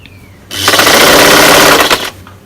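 A sewing machine stitches a T-shirt seam at a half-inch allowance in one loud, close burst of rapid mechanical rattling that lasts about a second and a half, with quiet before and after.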